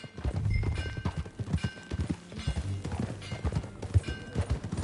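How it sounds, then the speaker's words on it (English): Horse hooves clip-clop in a steady, rhythmic gait in the video game Red Dead Redemption 2, fairly close and prominent over low background ambience. "Get on your horse, John."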